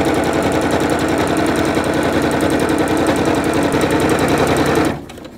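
A sewing machine stitches a pillowcase steadily at high speed with a rapid mechanical rhythm, then stops abruptly near the end.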